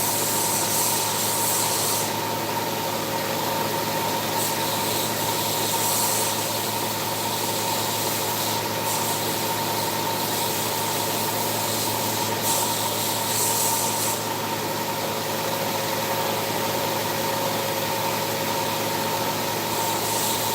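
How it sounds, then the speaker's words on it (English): A bench grinding wheel trims down a motorcycle screw during work on a Yamaha XS250, a steady continuous whirring hiss with a few brief shifts in pitch as the metal is pressed against the wheel, no talking. "trim with the good old bloody grinding wheel"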